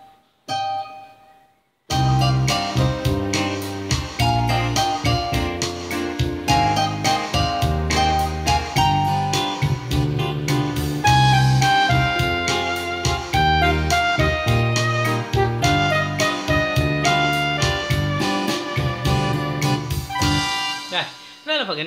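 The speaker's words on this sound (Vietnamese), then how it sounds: "phần intro nó có hai tiếng, đó là tiếng guitar và tiếng kèn." Song intro played on an electronic organ keyboard with guitar and horn voices, a full steady arrangement with a driving rhythmic beat, loud and continuous after a short quiet lead-in.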